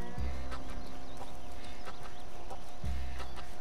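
Horse hooves in Red Dead Redemption 2 thud in two heavy low bursts about three seconds apart over continuous game ambience with faint high chirps, no speech.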